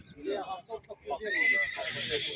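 A horse neighs and whinnies at a horse market, loud and close, with its calls running under people talking nearby.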